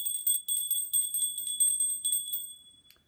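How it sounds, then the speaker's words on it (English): A small bell rings over and over at a steady, quick pace, each bright metallic strike ringing on in a clear high tone, then the ringing stops and the last tones fade away. "Ring the bell for freedom."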